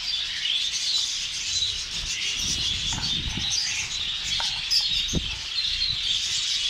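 Caged birds, including zebra finches, fill a bird shop in Buraidah, Al Qassim, Saudi Arabia, with a constant, busy chorus of high chirps and tweets, and a few soft, low bumps and rustles beneath.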